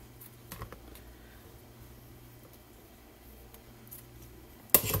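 Scissors trim the ribbon ends on a handmade card, a few quiet close snips and paper rustles over a faint room hum, ending with a louder sharp clack.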